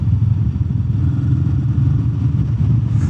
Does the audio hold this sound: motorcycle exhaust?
yes